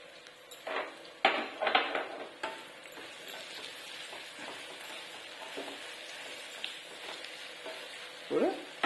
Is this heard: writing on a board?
no